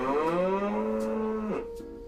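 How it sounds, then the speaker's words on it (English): A cow moos once on a camera feed, a long, steady, loud low call that drops off at the end, heard alone with no talk. "I mean, it's a cow. I expect the cow to move."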